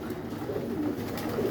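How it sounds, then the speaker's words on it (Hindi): Pigeons coo steadily in a loft, a soft continuous murmur of several birds close by with no voices over it. "कबूतर हैं, एक्टिव हैं।"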